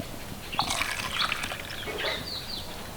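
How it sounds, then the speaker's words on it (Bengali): Boiled mango water is poured into a measuring cup for mango jelly, a soft, close trickle and splash of liquid rising and fading over a few seconds. "আমি এখন কাপে মেপে নিচ্ছি এই যে আমের জলটা"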